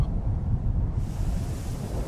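Strong wind blusters in a constant broadband rush, with low rumbling gusts and no voices.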